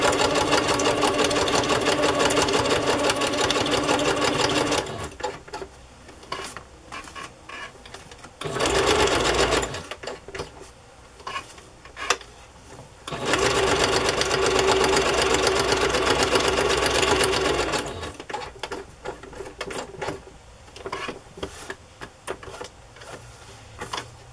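Sewing machine stitching through journal pages, loud steady whirring runs broken by two short gaps and a longer stretch of scattered handling noises near the end.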